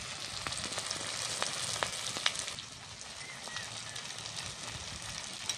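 Onion and tomato fry in a pan with chili powder and salt, giving a steady close sizzle with fine crackles and a few brief sharper pops.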